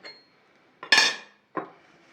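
Zucchini slices being stirred in a pan with a utensil: a few separate metallic scrapes and clinks, the middle one loudest and longest, close by with quiet pauses between.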